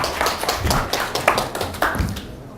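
Scattered audience clapping at a Korean social venture presentation event, a few uneven claps close by that thin out after about two seconds.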